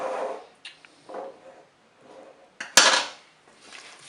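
Spaghetti with pork and tomatoes being stirred in a Cookeo pot: soft scraping and sloshing strokes with a few light utensil taps, then one sharp metallic clank against the pot before more stirring, close and moderately quiet without talk.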